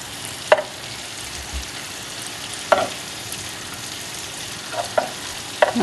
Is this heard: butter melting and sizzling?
yes